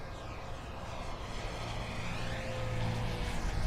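An FMS Kawasaki Ki-61 RC model plane with a 995mm wingspan makes an inverted pass. The propeller drone swells louder as it approaches.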